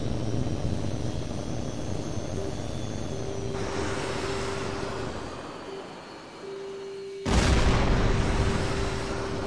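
A jet fighter in the video game Tom Clancy's H.A.W.X. 2 hums steadily in flight, broken by two rushing bursts as heat-seeking missiles launch, the second louder and sharper.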